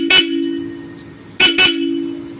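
A Bosch Europa horn newly fitted to a Toyota Hilux sounds loud and close in three blasts: one short toot, a pause, then two quick toots in succession.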